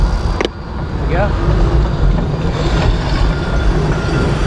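Road traffic on a single lane passes close to a cyclist, a constant loud rumble of engines and tire noise with one short sharp clatter near the start.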